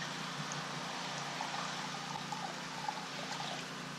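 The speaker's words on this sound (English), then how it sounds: "old number 7. And we want about a half a cup" Jack Daniels whiskey poured into a measuring cup for a steak marinade, a steady close trickle running for about four seconds with no voices.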